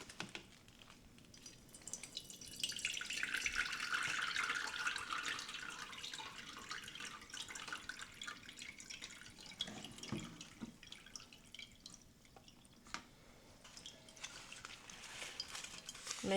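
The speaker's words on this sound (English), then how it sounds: "show you guys how much I do actually water and see how much water is actually absorbed into the soil." Water poured onto a potted plant, a soft hissing trickle that swells and fades, followed by quieter dripping and soaking into the soil, close and alone.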